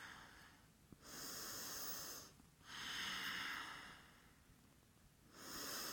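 A person breathes slowly and deeply through a yoga stretch, with three long, airy exhalations separated by quieter pauses, close to the mic and without talk.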